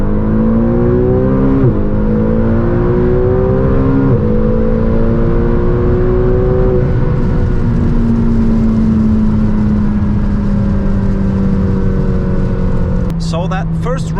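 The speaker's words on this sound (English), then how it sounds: "Let's now see how fast the McLaren GT goes," A 620 hp McLaren GT pulls hard from 100 to 200 km/h, its loud engine note climbing steadily and dropping briefly at each quick upshift before rising again.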